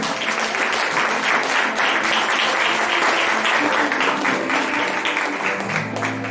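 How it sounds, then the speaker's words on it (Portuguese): A church congregation clapping together, dense, loud and sustained for about six seconds with no speech over it. "Aplauda ao Senhor Jesus."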